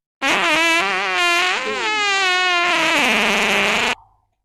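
A loud, drawn-out fart sound in a Haryanvi comedy sketch lasts nearly four seconds on its own, tonal and wavering in pitch before cutting off abruptly.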